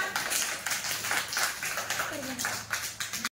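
A group of children claps four fingers against their palms to imitate heavy rain, producing a dense, rapid, close patter of many overlapping claps with voices mixed in.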